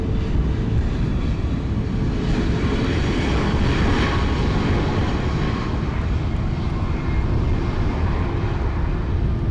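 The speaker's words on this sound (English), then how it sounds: "Southwest is hitting the runway, the one-way." Southwest airliner on the runway at San Juan's Luis Muñoz Marín International Airport: a sustained, broad jet-engine roar at moderate distance, steady with a slight swell midway, no voices.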